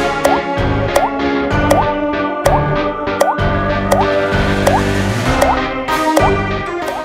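Water dripping from a faucet into a sink, steady repeating plops roughly every half second to second, close and clear, alongside a rhythmic musical backing.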